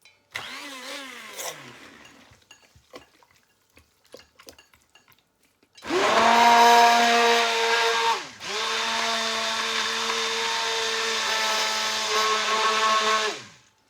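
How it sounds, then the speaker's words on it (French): A kitchen blender mixing a vegan potato-based cheese with no nuts. After quiet clinks and shuffles, a loud, steady motor whine kicks in, dips briefly, then resumes at high speed until it cuts off. "Allez, et là on va mixer."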